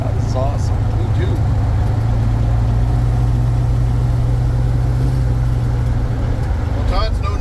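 A 1965 Dodge A100 van with a warmed-up 318 engine rumbles steadily from inside the cab while cruising in Moncton, a low continuous drone under people talking.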